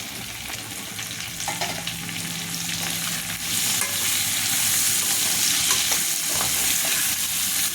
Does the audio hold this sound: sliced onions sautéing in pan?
yes